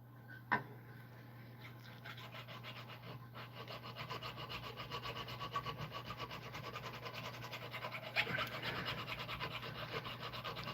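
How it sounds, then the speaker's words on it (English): Metal file rasping steadily against silver at a silversmithing bench, a continuous close scraping with dense repeated strokes, a sharp knock near the start and another around eight seconds, no talking. "I'm just filing away at silver."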